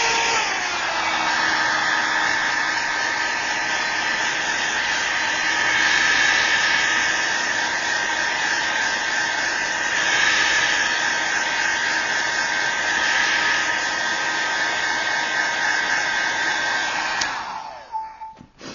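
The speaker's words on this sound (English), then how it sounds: "quickly blow dry around the outside to sort of set the color that's underneath the stencil" A hair dryer blows steadily and loudly on alcohol ink around a craft stencil, a continuous roaring whoosh that holds for the whole stretch before cutting off abruptly near the end.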